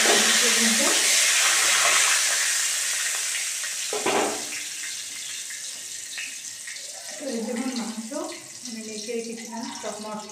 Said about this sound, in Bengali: এখন আমি মাংসটা বসাবো।